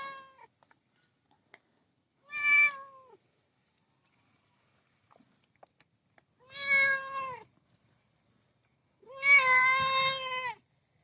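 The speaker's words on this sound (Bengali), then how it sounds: "একটা মাছ দাও বাবা বিড়ালটাকে" A cat meows three times, spaced a few seconds apart, each call drawn-out and clear against a quiet background with a faint high tone.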